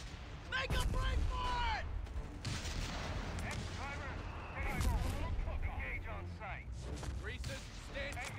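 Heavy machine gun and artillery fire in a World War II strategy game with an M3 half-track, a dense barrage of bursts and booms rolling on throughout, with voice callouts and radio chatter over it.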